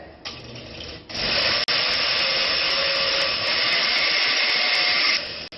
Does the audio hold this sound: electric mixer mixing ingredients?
yes